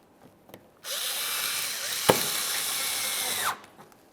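Power tool driving an 8mm headed bolt into a 2014-2018 Mazda 3 front bumper cover, one steady close whir lasting under three seconds, alone in a quiet space.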